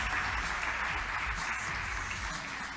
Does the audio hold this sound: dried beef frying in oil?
no